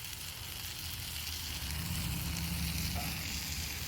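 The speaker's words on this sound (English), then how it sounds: "So we're just going to toast it up a little bit." Buttered bread toasts in a cast iron pan, giving a soft, steady sizzle with a low hum beneath, faint and continuous throughout.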